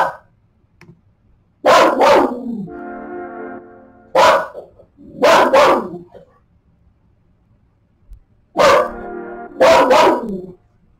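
A dog barks in sharp doubled bursts, three clusters spaced a few seconds apart, close and loud, with a tonal whine between some of the barks and quiet gaps in between.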